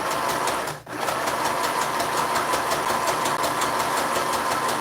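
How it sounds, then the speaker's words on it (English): A serger sews a single-stitch serged seam along the edge of fabric for a mask, giving a steady, fast mechanical whirring chatter that runs close and loud almost throughout, with one brief break early on. "we're going to go ahead and just single stitch serge this"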